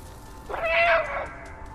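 A single clear cat meow from the video game Stray, rising and falling over about three quarters of a second, close and distinct above a quiet low background hum.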